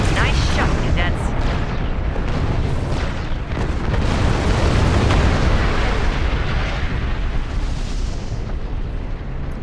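Starship weapons fire and explosions in Star Trek Online during a Klingon battle, a dense barrage of booms and blasts rolling continuously with bright bursts, loud throughout, with a voice speaking over part of it.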